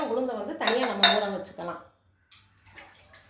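Kuthiraivali millet and idli rice washed together in a metal vessel: bright clinks and splashy sloshing in two close bursts, then a short pause and a fainter stir.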